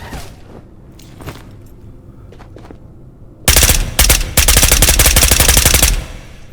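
A long, loud burst of rapid automatic gunfire in Ghosts of Tabor fires at close range to kill a scav, following a quieter stretch of faint movement and scattered single thumps.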